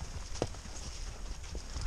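A horse's hooves clop on soft, muddy ground at a walking pace, a few irregular muffled steps with faint rustling around them.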